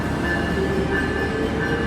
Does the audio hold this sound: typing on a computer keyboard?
no